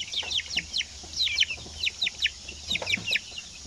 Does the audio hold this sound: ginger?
no